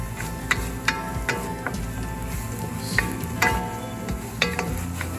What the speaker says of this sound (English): I'm taking the top off and stirring a little bit to make sure it's not sticking to the bottom too bad